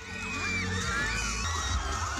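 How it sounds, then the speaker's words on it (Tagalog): Crowd at the Miss Bangued 2024 beauty pageant in Bangued Town Plaza, Abra, cheering and shouting in a brief, loud swell of whoops and screams. "Kanya-kanyang cheer ang crowd"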